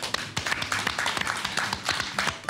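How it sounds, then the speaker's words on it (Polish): A television studio audience applauding, dense steady clapping from many hands at close range that continues without a break. "także brawa"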